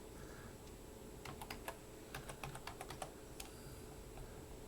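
Rapid keystrokes on a computer keyboard during setup of Zorin OS 16 Core 64-bit, irregular clicks in short bursts over a steady low hum, fairly close and moderately loud, with no talking.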